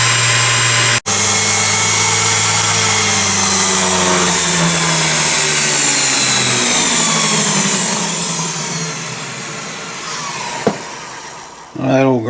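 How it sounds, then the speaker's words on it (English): An old valve grinder whirs loudly and steadily while grinding the valve seat of a 2HP Famous engine, holding a continuous motor drone that slowly winds down near the end. "that old grinder does a nice job"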